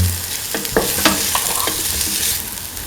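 Spice mixture being stirred into okra in a hot pan, a spoon scraping and knocking several times over a steady low sizzle.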